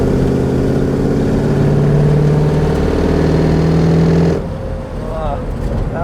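A 1967 Bizzarrini 5300 GT engine roars loudly with a rising, sustained rev, then cuts off abruptly and settles into a lower rumble.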